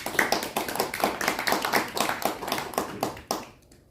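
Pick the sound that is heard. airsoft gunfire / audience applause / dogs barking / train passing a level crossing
audience applause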